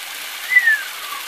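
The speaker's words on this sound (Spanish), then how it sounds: "Le dicen el chorro por esa pequeña cascada que viene bajando." A small waterfall spills cold water down a rocky channel, giving a steady, close, bright rushing hiss with a slight swell midway and no voices.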